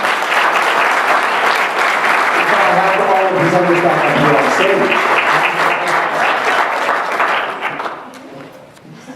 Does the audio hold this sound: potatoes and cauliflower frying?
no